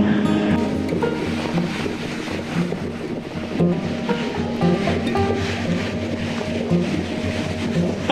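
Ocean waves washing onto a winter seashore, a steady roaring surf with rolling swells and gusts of wind buffeting the microphone, continuous and fairly loud with no voices.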